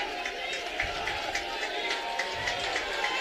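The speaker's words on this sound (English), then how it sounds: "That's the Salve crowd whooping it up on the near sideline just below us." College football crowd of Salve Regina fans whooping and shouting on the near sideline, a lively mass of cheers with scattered yelps rising over a steady crowd murmur, with a voice talking over it.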